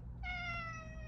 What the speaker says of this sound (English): Kitty Cat Cam!